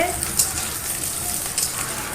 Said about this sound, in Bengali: এ দেখো তেল গরম হয়ে গেছে এবার আলুগুলো ভেজে নেবো